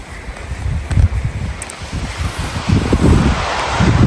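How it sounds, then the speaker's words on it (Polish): Wind gusting over a cold seaside beach beside a golf resort, with surf rolling in beneath steady, blustery rumbling, no voices. "I doszliśmy nad morze."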